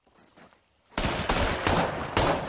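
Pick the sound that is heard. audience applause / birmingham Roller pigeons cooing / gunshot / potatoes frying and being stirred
gunshot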